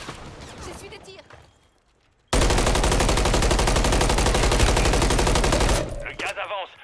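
Automatic gunfire in the Call of Duty video game, a loud sustained burst of rapid shots lasting several seconds, with game voices before and after.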